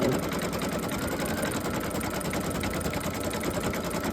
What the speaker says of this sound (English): so now it's just going to stitch around the outside to put the two together